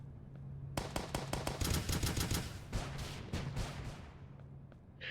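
Rapid bursts of pistol and rocket launcher fire in Starbound, with a quick run of sharp repeated shots followed by a few heavier scattered blasts, moderately quiet.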